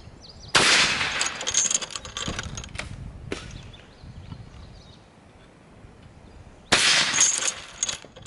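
Two loud, sharp .308 rifle blasts fired at a Squire SS80CS padlock come several seconds apart, each with a crack and a ringing tail, with some clattering impact noise in between.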